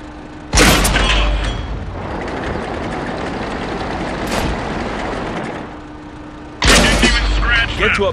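Tank cannon fire in a video game: a loud booming shot near the start, a softer thump in the middle and another heavy blast near the end, over a steady rumbling engine bed.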